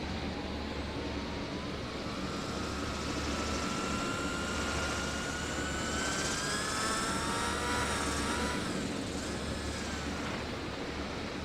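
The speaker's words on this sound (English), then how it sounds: "I've been trying to learn to land on a Harrier." Harrier jump jet engine in the RealFlight Evolution flight simulator, a steady loud jet roar with rising and falling whine tones that swell around the middle and ease off near an aircraft carrier, with no talk.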